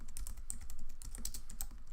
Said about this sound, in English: So I'm going to click anywhere and I'm going to start typing